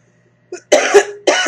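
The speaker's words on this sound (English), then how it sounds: "I'll be coughing a little bit." A woman coughs close to the microphone, a short hack followed by two harsher bursts after a moment of quiet.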